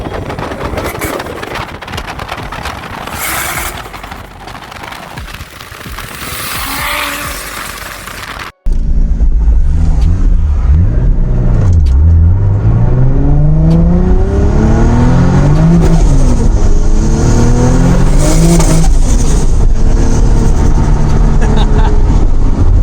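A Toyota Supra MK4 fitted with a large T88 33D turbo, filmed in Kitwe, Zambia, accelerates hard. The engine revs loud and close through rising gear pulls after a quieter opening stretch.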